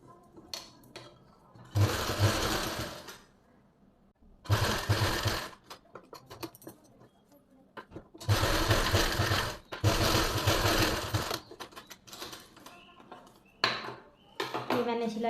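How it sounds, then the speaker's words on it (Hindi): A sewing machine runs a thick topstitch along a pleated suit's neckline, its motor whirring in three or four bursts of steady stitching separated by quiet pauses, with a voice talking now and then. "पलटने के बाद ऊपर से एक मोटे बखिए की सिलाई और लगा देंगे।"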